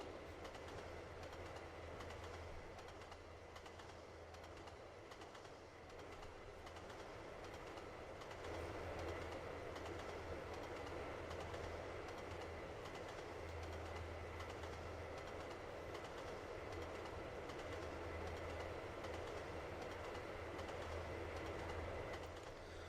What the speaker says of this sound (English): Oh no, it's another hazard train. And this time with a 143 as the lead.